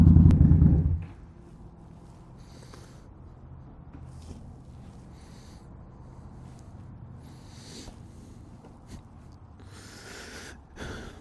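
A 2019 Indian Scout Bobber motorcycle fitted with Vance and Hines exhaust rumbles loudly close by for about a second, then cuts off, leaving a quiet background with faint scattered noises.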